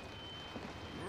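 Rain patters against a window in the horror video game Project Nightmares, a quiet, continuous hiss of drops with faint background hum.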